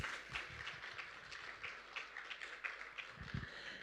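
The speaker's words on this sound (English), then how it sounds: "let us give Her Excellency the biggest round of applause" Faint applause from an audience at a B20-G20 women-in-business dialogue follows a call for a round of applause. The scattered claps patter steadily in the distance throughout.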